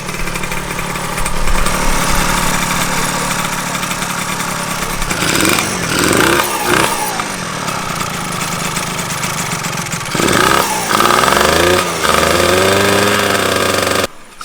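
A water-cooled 120cc stroker two-stroke engine in a Honda Elite AF16 moped with a Dio build runs continuously at close range, with a buzzy, raspy idle that rises in several short revs.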